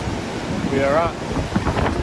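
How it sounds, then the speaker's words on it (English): Strong, cold wind gusting at a national park near a large waterfall, a steady roar buffeting the microphone, with a brief tonal sweep partway through. "it's very cold, very blustering today"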